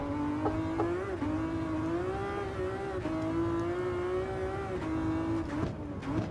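A Ferrari Enzo race car engine drones steadily in Gran Turismo 7, holding a high sustained tone with slight pitch dips at gear changes and corners, loud and close throughout.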